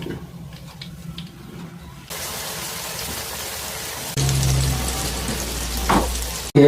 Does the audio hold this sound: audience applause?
no